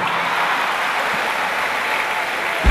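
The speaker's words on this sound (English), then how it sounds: "you know what blind like me, clap for yourself" A crowd claps for itself during a comedy show, a steady, dense wash of applause filling the room and holding at an even level throughout, with a brief thump near the end.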